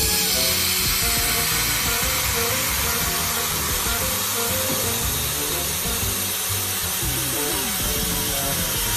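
A handheld welding, cleaning and cutting all-in-one machine cutting through a board, producing a continuous loud, harsh hiss and crackle that stays steady for the whole stretch without pause.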